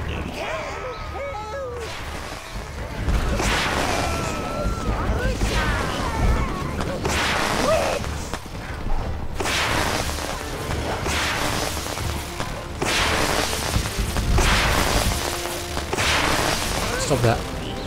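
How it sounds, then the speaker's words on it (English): Repeated sharp bursts and crackling pops of firecrackers in the video game Overlord II, some rapid and clustered, others spaced out, loud and continuous over a busy background. "These firecrackers are annoying."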